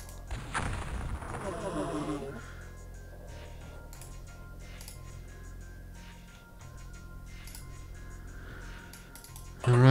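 A rocket launched in XCOM Files: a sharp whooshing blast at the start that trails off into mechanical clatter and a steady hum, with a louder thump at the very end.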